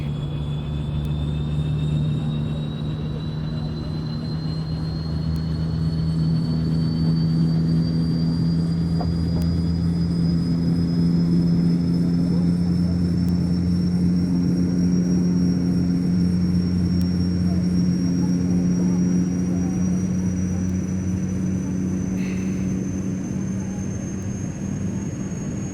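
Right engine of a Saab 340 turboprop spooling up in the X-Plane 11 flight simulator, a steady loud drone with a rising whine climbing slowly throughout, continuous and without pauses.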